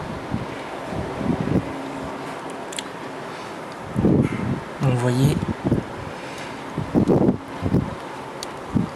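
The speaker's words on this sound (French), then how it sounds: "Il y a du vent." Wind rushes and rumbles steadily against the microphone on an October day in Sallanches, in the French Alps, while someone speaks in short phrases over it.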